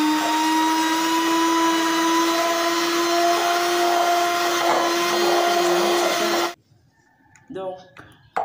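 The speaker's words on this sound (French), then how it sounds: "Donc, comme je disais, nous allons fouetter." Electric mixer whipping chebe butter, a loud steady motor whine with clear humming tones that cuts off abruptly, then a brief voice in the quiet that follows.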